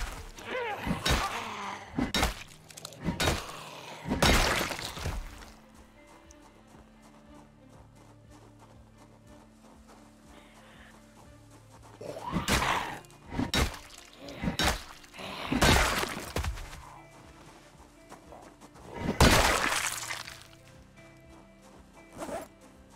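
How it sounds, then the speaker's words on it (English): A door being smashed in Project Zomboid, repeated heavy thuds and bangs in irregular bursts separated by quieter stretches of background game ambience. "Somebody smashing a door somewhere."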